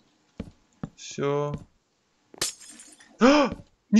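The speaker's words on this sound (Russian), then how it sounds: "Зачем ты сломал стекло?" Glass blocks break in Minecraft with several short, bright shattering crashes spread across a few seconds, mixed with brief voiced sounds between them.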